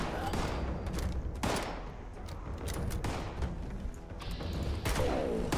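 Gunfire in the video game Fallout 76, rapid repeated shots and impacts in bursts over a dense battle din, loud and close.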